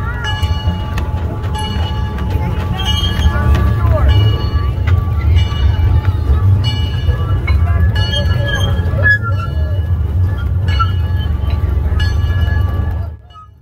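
LH&W steam train running at night, a loud continuous rumble and rail clatter with bright squeals and a horn-like tone, fading out at the end, with a voice speaking over it.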